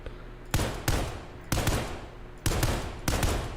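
An EBR .308 battle rifle fires in Ground Branch: five loud, sharp single shots at uneven intervals, each with a short booming tail, close and with no talk.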